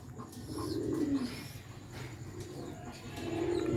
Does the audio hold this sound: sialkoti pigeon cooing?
yes